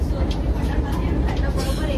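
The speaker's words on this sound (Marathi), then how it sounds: "ट्रेन बघा एकशे सहा एकशे सातच्या स्पीडने चालली आहे" A low, continuous rumble of a Vande Bharat express train running at about 106 to 107 km/h near Panvel, heard from inside with a steady roar and faint rattling.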